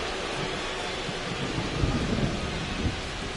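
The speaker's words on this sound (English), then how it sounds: "This rain is not letting up." Heavy rain pours down during a baseball video game, a dense, steady hiss with low rumbling swells, close and continuous with no voices.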